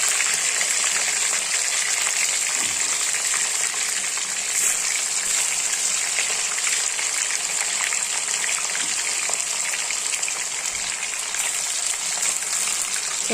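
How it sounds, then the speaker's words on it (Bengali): Paneer frying in hot oil gives a loud, dense and continuous sizzle that stays close and even throughout, with no voices. "দেখো পনিরটা কিন্তু ভাজা করে নিলাম সব"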